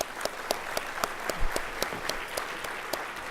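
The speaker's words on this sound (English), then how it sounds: "So one more time, a round of applause for our plenary." An audience at a general education and assessment conference applauds its plenary speakers. Sparse, distinct claps ring out in a loose, fairly regular rhythm over a soft background of wider clapping.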